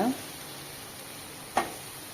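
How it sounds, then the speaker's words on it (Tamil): Manathakkali spinach greens sizzle in a pan with a soft, steady hiss, broken by two quick stirring scrapes at the start and near the end. "இது கூடவே நம்ம இப்போ வந்து கட் பண்ணி வச்ச அந்த கீரைகள்லாம் சேர்த்துக்கலாங்க கொஞ்சம் கலந்து கொடுங்க"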